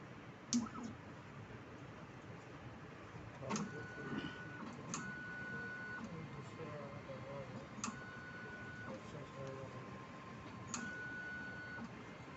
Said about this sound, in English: Autoprime means just washing internal tubing using my present solvent system.